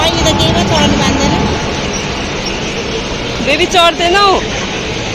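Inside a train carriage on a holiday trip, a steady rumbling ride noise carries under a child's and adults' voices, with a brief squealing wheel sound near the end.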